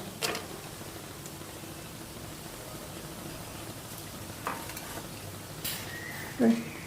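Spinach and potato patties pan-fry in a little oil, a low steady sizzle running throughout with a few faint clinks and scrapes near the end.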